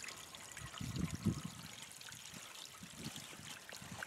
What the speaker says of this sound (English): this little water feature we have at the church is artificial